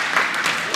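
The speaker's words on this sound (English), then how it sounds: "A round of applause." Short burst of dense crowd clapping for a student at an inter-school junior high competition, steady and moderately loud with no speech over it.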